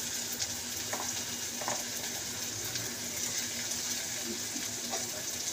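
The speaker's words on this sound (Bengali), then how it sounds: "তো চলুন আমরা কষে নিয়ে দেখি" Tomatoes, salt and spices sautéing in a pan give a steady, close sizzle with soft stirring scrapes throughout, no voices over it.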